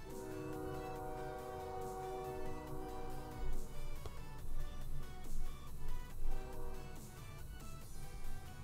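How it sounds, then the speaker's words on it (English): A train goes by in the background with a sustained horn tone at first, followed by a rumbling pulse that swells and fades, heard faintly behind game music. "I'm sorry about that train in the background"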